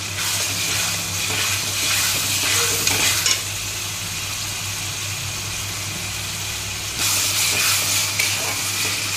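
Ginger paste frying in a pan for a simple chicken curry, a loud steady sizzle with bursts of stirring and scraping that swell and fade, no voices.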